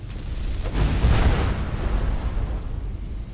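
A fiery magic blast bursts through an obstacle in Skyrim Dragonborn, one deep rumbling boom that swells quickly and trails off into a fading roar, close and loud, with no talking.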